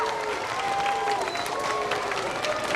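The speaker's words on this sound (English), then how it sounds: "Would you please give another wonderful round of applause for the district's terrific" Audience applause for a school district's music teachers at a 2006 Music In Our Schools Week assembly, a steady wash of clapping from a crowd with some voices mixed in.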